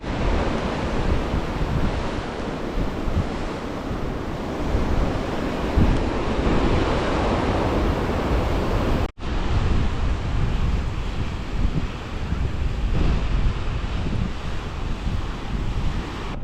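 Ocean waves roll onto a beach on New Zealand's West Coast. A continuous roar of surf mixes with wind buffeting the microphone, with one brief cut partway through.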